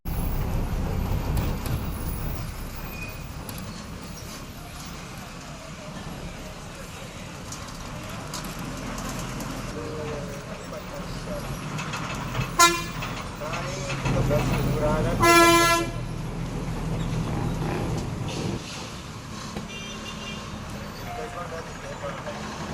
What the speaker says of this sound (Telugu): ఒక 5 నిమిషాల బ్రేక్ తర్వాత మన బస్ చింతపల్లి బస్ స్టాండ్ నుండి తిరిగి బయలుదేరింది